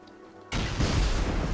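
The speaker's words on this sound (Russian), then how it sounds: "А что, взрывом снесло, что ли?" A loud, close explosion blasts through a base raid in Rust at about half a second, its broadband roar swelling and rumbling on to the end.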